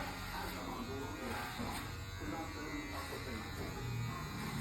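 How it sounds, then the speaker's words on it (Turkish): Electric clippers buzz steadily close by as a boy's hair is shaved, a constant whine running throughout while voices speak over it. "Saçlar gidiyor, tıraş oluyorsun."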